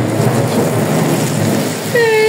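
Steady rain hisses loudly and continuously, then a sharp whistling tone cuts in near the end.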